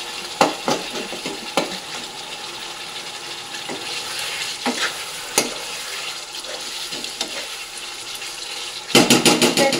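Potato and egg fry in spiced oil in a pan, a continuous crackling sizzle broken by sharp utensil clinks and scrapes from stirring, with a louder clattering burst near the end.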